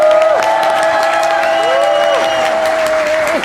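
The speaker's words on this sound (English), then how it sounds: "Your claps will tell us." An audience at a live debate claps and cheers to vote. A dense burst of applause runs throughout, mixed with sustained whoops and voices from the crowd.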